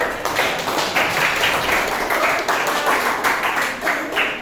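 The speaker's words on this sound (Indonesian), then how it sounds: "Oke, tepuk tangan yang meriah." Students in an eighth-grade computing class break into lively applause, a busy, even wash of many hands clapping together throughout.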